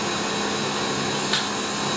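A suction device hums steadily during an eye procedure, a constant airy whir with a faint click near the end.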